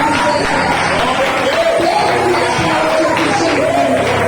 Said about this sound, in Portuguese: dar uma salva de palmas ao Senhor